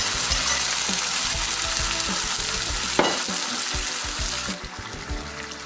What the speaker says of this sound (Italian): Possiamo già aggiungere i pomodori pelati.